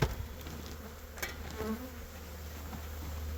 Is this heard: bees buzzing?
yes